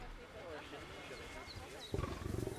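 Lions roaring in the Planet Zoo video game: a low, pulsing roar fades in toward the end under steady ambient game sound, with someone speaking Polish over it.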